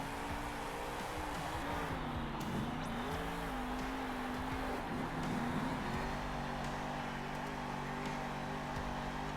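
Monster trucks race in Monster Jam Steel Titans 2 two-wheel racing, engines revving and shifting pitch through turns and straights with faint tire squeals, a continuous moderate game soundtrack without speech.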